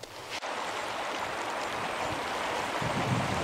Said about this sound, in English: this may look like a regular creek, but it's about 100 degrees